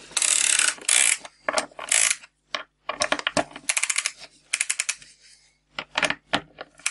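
A ratchet tightens a piston ring compressor band around a piston from a Renault 4L engine, sounding as rapid, sharp metallic clicks in several quick bursts with brief gaps, close and crisp.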